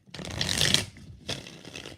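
Tarot deck shuffled by hand up close, one longer riffle followed by a shorter second pass after a short break.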